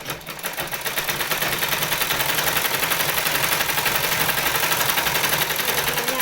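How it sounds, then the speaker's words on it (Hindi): Electric sewing machine stitching a palazzo trouser seam, running at a fast, steady, even rattle close up for several seconds without pause. "अब यहाँ पे इतना हम लोग 1 इंच का जो मैंने कहा था मार्जिन छोड़ते हुए इसको सिल देंगे।"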